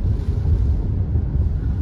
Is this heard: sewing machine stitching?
no